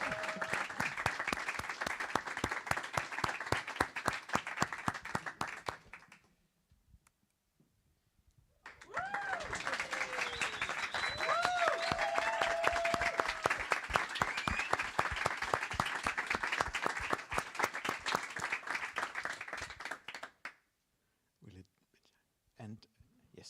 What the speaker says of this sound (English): Everyone that showed up, applaud yourself.